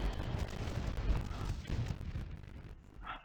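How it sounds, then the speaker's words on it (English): Ship cannon fire at sea in Ultima Online Outlands, a rolling series of low, rumbling booms that blend into one continuous thunder and fade out toward the end. "I'm just going to wait out the cannon fire"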